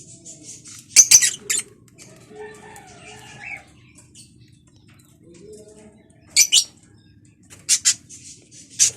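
Lutino African lovebirds in a cage give a few sharp, bright chirps in scattered bursts, with soft fluttering and rustling between them, fairly close and with no talking.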